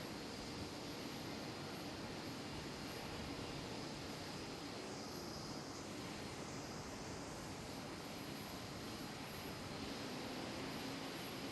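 An Airbus A320neo airliner at Schiphol airport gives a steady, broadband engine roar that holds at an even level throughout, distant and unbroken with no voices.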